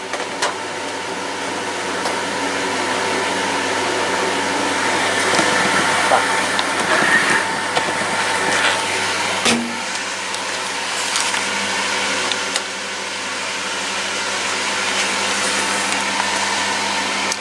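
A washing machine runs a spin-only cycle, giving a steady, loud droning hum with faint rattles and shifts in tone that continue without a break for about seventeen seconds.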